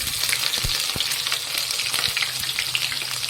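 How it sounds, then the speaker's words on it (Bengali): Chopped onions frying in oil after cumin seeds, with a dense continuous sizzle and a few sharp utensil taps as they are stirred, close up with no voices. "পেঁয়াজ কুচি দেওয়ার পরে ভালো করে পেঁয়াজ কুচিগুলোকে নাড়াচাড়া করে নিতে হবে, বেশ বাদামি রঙের ভাজা হয়ে এলে"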